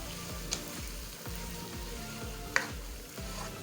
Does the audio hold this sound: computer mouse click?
no